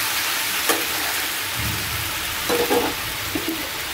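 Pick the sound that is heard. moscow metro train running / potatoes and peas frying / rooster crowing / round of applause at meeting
potatoes and peas frying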